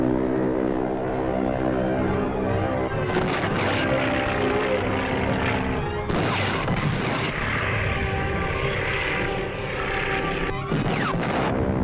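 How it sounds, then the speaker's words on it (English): A propeller airplane drones steadily overhead in an old film serial, its loud, continuous engine roar swelling and shifting with crashing bursts mixed in, and no voices. "A plane is reported entering your zone without authorization."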